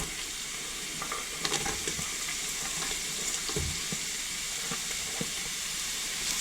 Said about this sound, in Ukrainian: І пасирую цибульку з морквою разом.